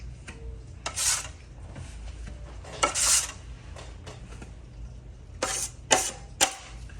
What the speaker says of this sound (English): I'm just flattening out the mountain of mud that I just made.